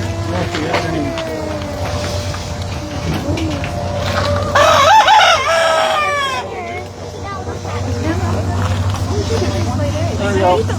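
Chickens of a meat and egg-laying breed cluck around a farm, with a rooster's loud crow rising in the middle over a steady low hum while a person talks nearby.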